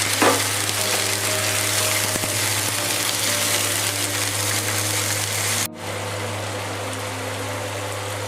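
Onion and ginger paste fries in a pan for an Assamese fish curry with papaya, a loud steady sizzle that suddenly drops quieter partway through, a few stirring clinks early on.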